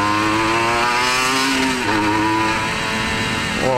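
A 1996 Honda NSR 150R two-stroke motorcycle ridden on a road, its engine buzzing steadily close up with rising and falling revs and brief gear changes.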